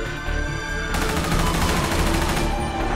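Dense gunfire in GTA 5 roleplay, a loud, continuous barrage of overlapping shots filling three seconds with no clear gaps between them.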